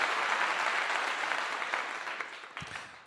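Steady applause from an audience at a college football program event, dense clapping sustained throughout and tapering slightly toward the end.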